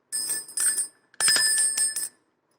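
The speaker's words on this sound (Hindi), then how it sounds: "देखिए कितनी क्यूट सी और यूनिक सी बेल है ये, हमारे मंदिर में तो मजा आ जाएगा।" A small brass temple bell rings in bright, clear bursts, two groups of quick shakes separated by a short pause, close and loud with a sustained metallic shimmer.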